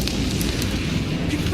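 A fire spell, Incendio, is cast in the game Hogwarts Legacy, giving a loud, continuous roaring whoosh of flame. The sound stays dense and unbroken across the short moment.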